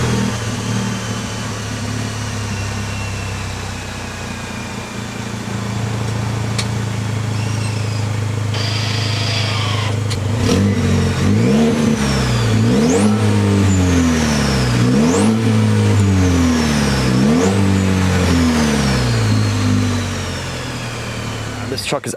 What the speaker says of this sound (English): let's give this a start and let's see what that 4-cylinder sounds like